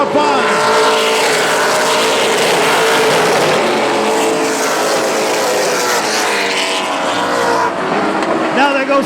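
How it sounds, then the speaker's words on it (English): Race cars speed around the Central Texas Speedway oval in single file, engines whining and rising as they pass close, a steady loud roar throughout with an announcer talking over it. "Now they go single file racing all the way around the racetrack."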